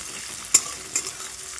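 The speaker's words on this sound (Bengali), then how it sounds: "পেঁয়াজটা ভেজে নিই ভেজে নিয়ে যেভাবে করি আর কি পেঁয়াজ ভাজা ভাজা হয়ে যাবে" Onions frying in a pan with bay leaves, a low quiet sizzle punctuated by a couple of sharp spatula scrapes or stirs, close up and without talk.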